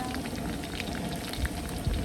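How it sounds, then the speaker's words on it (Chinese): Rain patters steadily outdoors in a continuous hiss of drops, fairly near, with a couple of soft thuds and no talk. "又下雨了"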